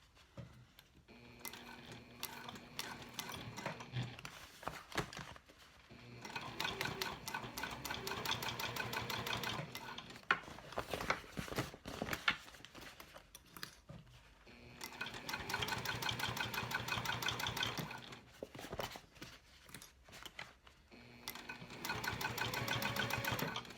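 A sewing machine top stitching a cork fabric convertible clutch runs in long sustained bursts, loud and steady, with short pauses between stitching runs.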